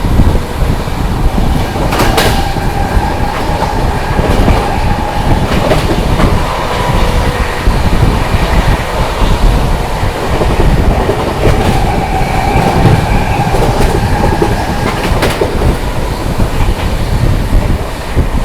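The 22438 Anand Vihar Terminal–Prayagraj Humsafar Express runs through Hathras Junction without stopping, heard from on board as a loud, steady rumble with rhythmic clickety-clack of wheels over rail joints. No one speaks.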